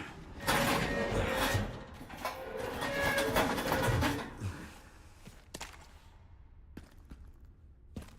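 A subway train in the video game Resident Evil Requiem rumbles and clatters loudly for several seconds, then fades into quieter mechanical clicks and sparse knocks.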